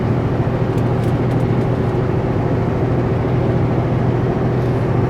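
A semi truck on a Super B trucking run downshifts to 9th gear in winter, a loud steady diesel engine drone with constant low rumble throughout, no voices.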